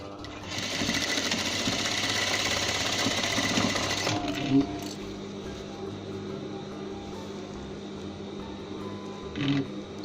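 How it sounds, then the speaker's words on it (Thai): A sewing machine stitches the elastic strap on a 3D cloth face mask, giving a close, loud, fast whirring run for about four seconds, then a quieter hum with a couple of soft clicks. "จากนั้นเย็บบริเวณสายยางยืดทั้งสองด้าน"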